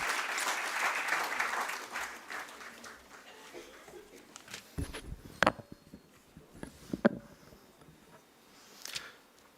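Audience applause at the stock market listing ceremony of Brainbees Solutions Limited, welcoming a speaker: steady clapping that fades after a few seconds into scattered individual claps.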